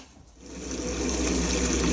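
Hot water runs from a tap in a motorhome washroom, starting quietly and quickly swelling into a steady, close, hissing gush that continues on its own.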